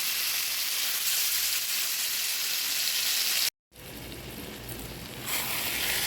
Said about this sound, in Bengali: কুচুটা দিই ভালো করে ভাজা ভাজা করে নিব মাছের সাথে